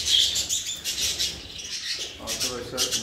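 Budgerigars chirping in a large breeding aviary for jumbo budgies, a dense, continuous chatter of high twittering calls close by, with voices faintly underneath.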